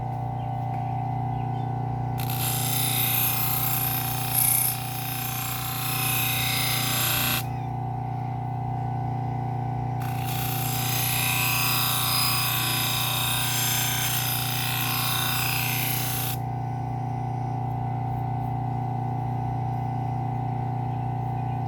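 Grass clipper blade honed on a spinning leather wheel to strip the burr, a steady motor hum underneath two long bursts of hissing, rasping friction, each lasting about five seconds with a pause between.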